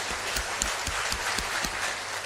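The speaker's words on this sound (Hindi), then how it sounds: "जोरदार तालियां।" Audience applause at a motivational talk, heard as a steady broadband wash of clapping with some scattered individual claps standing out, moderately loud and continuous.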